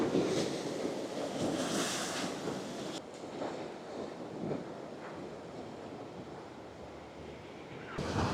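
Sea waves wash onto the beach at Burnham-on-Sea at high tide, a steady broad surf roar mixed with gusty wind on the microphone.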